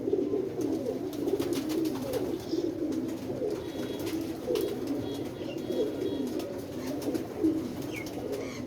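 Continuous low cooing from a red-eyed jaaldar pigeon caught in bad weather, a throaty rolling call that swells and repeats for several seconds, close and steady, with scattered ticks and rustles but no speech.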